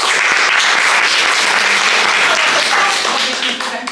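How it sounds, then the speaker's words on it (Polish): An audience at a music and book event for a collection of Rawa religious songs bursts into a short, thick round of applause that holds strong and close, then begins to fade just before the end. "Wielkie, wielkie brawa."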